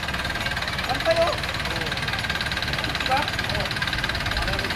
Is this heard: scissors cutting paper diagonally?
no